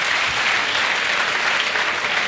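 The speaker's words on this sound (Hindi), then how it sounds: "एक बार इसके लिए तो ताली बजा दो।" Audience at a career guidance event applauding, a dense, even roar of many hands clapping at once, loud and steady throughout with no talk over it.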